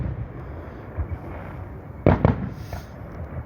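Guy Fawkes night fireworks go off over a park near Rolleston, Christchurch, New Zealand. Heard from a distance, a low steady rumble gives way to a couple of sharp crackling bursts near the end.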